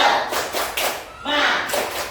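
Rhythmic 'tepuk semangat' spirit clapping by a classroom group, several broad bursts of clapping mixed with young voices chanting, close and loud.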